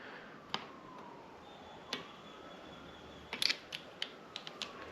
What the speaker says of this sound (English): the ratcheting click type torque wrench I'm using